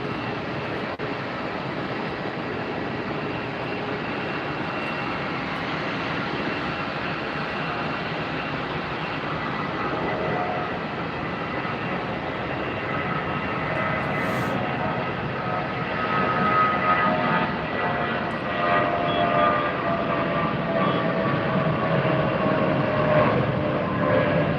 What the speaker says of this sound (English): Rolling up the runway now is our next departure.